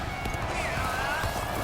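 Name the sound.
horse hoofbeats in the video game Dynasty Warriors: Origins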